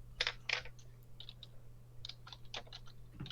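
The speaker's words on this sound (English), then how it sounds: "I hear you typing." Computer keyboard typing comes in faint, irregular bursts of clicks, some quick runs and some single keystrokes, over a steady low hum.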